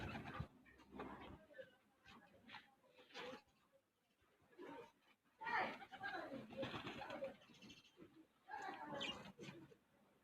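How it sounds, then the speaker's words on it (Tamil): Many pigeons at a home loft, including red-brown birds and freshly hatched chicks, coo softly in repeated bursts close by, with a voice talking over them at times. "நிறைய புறா வந்து இருக்கு."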